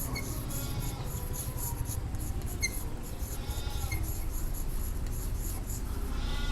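Pen or pencil scratching steadily across paper while a graph of angle of incidence against angle of deviation is drawn by hand for a prism lesson, a continuous close scribble with small squeaks.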